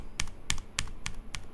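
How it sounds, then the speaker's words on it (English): Five evenly spaced keystrokes on a mechanical keyboard, crisp clacks with a slight thock, close and alone. "regular typing"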